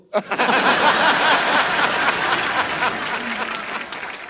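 Steady applause from a studio audience at a comedy talk show's musical night, dense and loud throughout, with scattered chuckles and a few voices mixed into the clapping.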